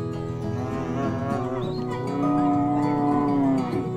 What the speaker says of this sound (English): Cow. C-O-W. Cow.